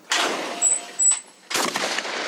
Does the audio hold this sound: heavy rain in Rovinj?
no